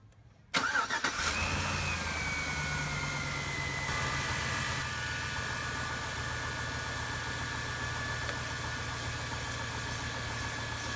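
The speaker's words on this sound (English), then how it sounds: "we took off the negative terminal and the car is still running" A car engine starts with a sharp crank and catches, then settles into a steady, loud idle with a faint whine during an alternator test with the negative battery terminal disconnected, running on alone without talk.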